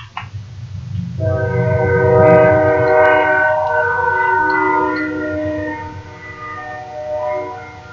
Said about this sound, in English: The train would have to come.